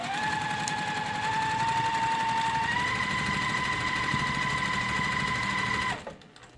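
A sewing machine stitches quilt seams at a short stitch length, running as a steady, loud, close-up whirring hum with fast rhythmic stitching that holds for about six seconds before stopping abruptly.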